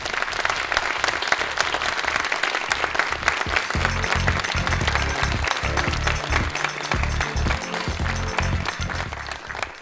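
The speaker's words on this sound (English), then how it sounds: "can I please just get one last round of applause for all of our panellists" Audience applause for the panellists at the close of a DEI panel event, a dense steady roll of many hands clapping at close range that continues for the full ten seconds, with no talk over it.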